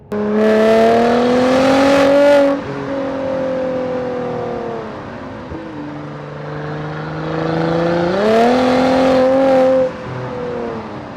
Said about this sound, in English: I might just cut that bit of exhaust noise in.